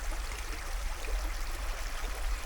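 A river flows over rocks at a crossing in Pangasinan, a steady broadband rush of water with a low rumble underneath, close and continuous.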